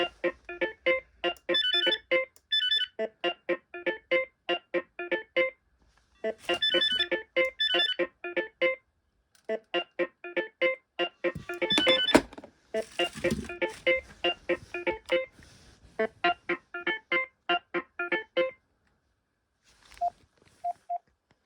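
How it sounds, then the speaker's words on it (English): Bass ringer tones from a BT2200 telephone, played as a series of rapid electronic pulsed bursts in repeated groups with short gaps between them, loud and clear with no talk. "let's choose a bass ringer"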